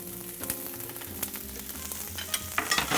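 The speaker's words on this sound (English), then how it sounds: "while it's melting, we're gonna push in our garlic, then also our chopped onions" Garlic and chopped onions frying in melted butter, a close crackling sizzle with bursts of popping and spatter, growing busier toward the end, no voices.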